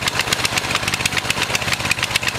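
A cheap Walmart pit bike with a small pull-start, lawnmower-style engine on choke runs in a fast, even putter, loud and close throughout with no voices.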